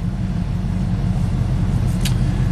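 A 1987 GMC plow truck idles after a misfire repair, its engine rumbling low and steady at close range with an even, continuous tone and no one talking.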